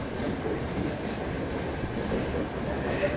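A train on the Trans-Siberian line rolls along with a continuous low rumble and a steady rushing drone, heard from close by, as from inside a carriage.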